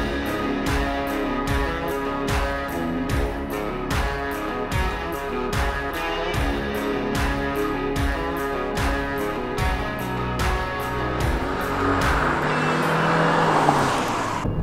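A 2018 Chevrolet Cruze RS diesel hatchback with a six-speed manual drives and accelerates, a continuous engine drone with a steady pulsing texture that builds into a louder rush toward the end, with no talking.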